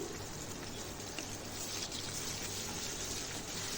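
Pieces of fish frying lightly in a pan of oil, a constant close sizzle with faint bubbling crackle, even and unbroken.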